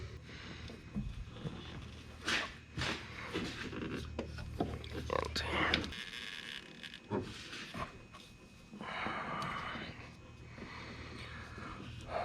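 Rubber filter wrench scraping and rubbing on a dusty oil filter under a Jeep TJ during an oil change, with close, rough rasping bursts and gripping scuffs repeating through the clip under a low background hum.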